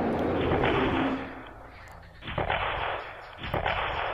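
A volley of rifle shots as a radio drama sound effect, loud bursts of gunfire with a fading roar between them and a couple of sharper cracks later on.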